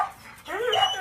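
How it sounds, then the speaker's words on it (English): Dogs barking and whimpering indoors, a short burst of several overlapping yips and barks rising after a quieter moment, fairly close and moderately loud. "I apologize for the dogs barking"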